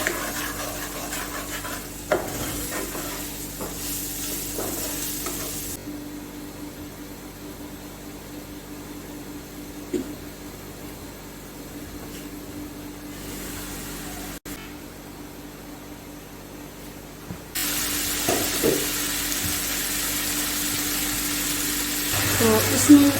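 Chili powder, black pepper and salt being stir-fried in a pan for pizza cutlets, a soft steady sizzle with occasional spoon scrapes and stirring, louder toward the end, with a voice talking over parts of it.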